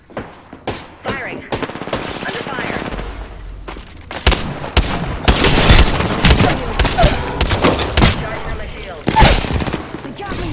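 Automatic weapon fire in the video game Apex Legends, with rapid bursts and sustained volleys of shots plus occasional booms, loud and dense throughout, with game voice lines briefly heard among the shooting.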